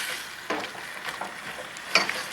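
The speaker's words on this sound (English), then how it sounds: "Give this a stir." Blood orange lip-plumping mixture stirred in a pan, a few soft scraping strokes over a low sizzle, with a sharper clink near the end, close and fairly quiet.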